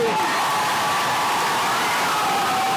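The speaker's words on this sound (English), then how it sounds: "There's the crowd." Crowd at a Missouri high school wrestling dual meet cheering steadily, a dense, continuous roar of many voices filling the gym throughout, with no single voice standing out.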